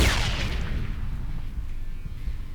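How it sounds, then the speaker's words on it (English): A sharp, loud blast in the game Ride to Hell: Retribution opens the moment, followed by a descending whistle and a long rumbling, crackling decay that fades into low noise. "that explosion radius was actually pretty decent"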